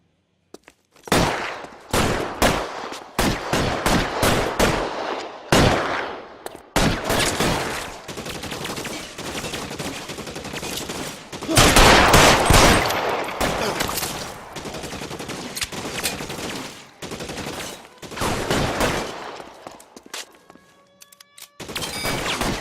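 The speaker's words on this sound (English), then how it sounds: "Lay down some covering fire." Dense bursts of automatic and rapid gunfire from an L.A. Noire shootout on PS4, loud and close, coming in repeated volleys with brief gaps, then tapering into scattered single shots near the end.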